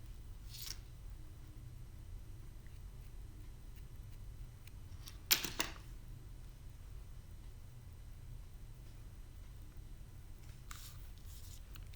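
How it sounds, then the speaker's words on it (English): Mostly quiet with a low hum, broken by a few faint scissor snips and one louder close cut partway through, as ribbon is trimmed from a tied bow for a handmade card. "And then I take my scissors."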